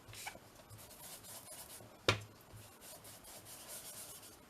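Paper edges being inked for a handmade flipout craft booklet: a soft, close rubbing and dabbing, with one sharper tap or scrape partway through and no voices.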